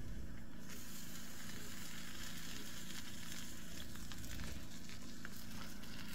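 Burger buns topped with cheddar cheese toasting in a hot pan, a steady loud sizzle and crackle of frying that continues without pause.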